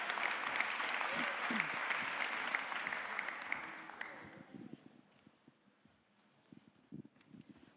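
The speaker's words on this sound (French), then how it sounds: "Vous pouvez l'applaudir." Crowd applause at an outdoor rally for Ukraine at the Hôtel de Ville, a broad burst of clapping that fades after about four seconds into scattered claps, light wind and murmuring voices.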